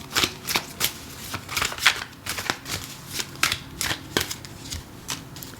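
Tarot cards are shuffled in a steady run of crisp riffling bursts, close and fairly loud, with no voices over them.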